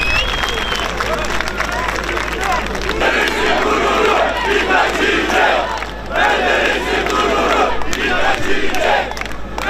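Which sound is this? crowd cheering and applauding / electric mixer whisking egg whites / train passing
crowd cheering and applauding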